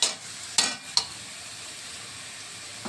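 Onion and tomato paste for misal masala being sautéed in oil, with a soft, steady sizzle broken by three sharp spatula scrapes near the start, close and alone.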